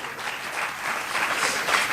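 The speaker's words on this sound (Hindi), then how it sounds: "एक बार ताली बजाए पतरस के लिए।" A church congregation claps together in a dense, sustained burst of applause that holds at even loudness throughout, with no voices rising above it.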